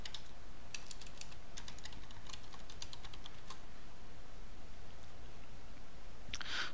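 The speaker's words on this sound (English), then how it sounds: "I'm going to type my credential to join this machine in domain" Computer keyboard being typed on, a quiet run of light, irregular key clicks over a steady background hiss, with a brief cluster of clicks near the end.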